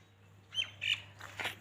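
Small birds chirp at a farm in a few short, bright tweets spaced over a second or so, fairly faint against a low steady hum.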